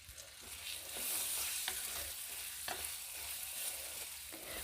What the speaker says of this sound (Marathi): बटाटे टमाटे मसाल्यांमध्ये चांगले परतून घ्यायचे आहेत